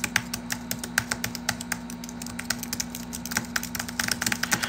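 Rapid clicky computer keyboard typing during a late-night live stream, a steady stream of sharp close keystrokes with a constant low electrical hum beneath and no talk.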